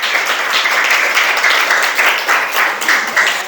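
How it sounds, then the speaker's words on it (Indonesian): Group 2 gets a steady burst of clapping from a classroom of students, dense and fairly loud throughout with no talking over it. "Ya, beri tepuk tangan untuk kelompok 2."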